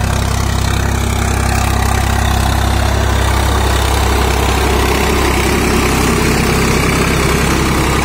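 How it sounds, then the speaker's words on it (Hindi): A steady low Swaraj tractor engine drone runs throughout, loud and unchanging, like a heavy motor idling close by, as the tractor slips. "ये देखिए भाइयों ट्रैक्टर स्लिप मार रहा"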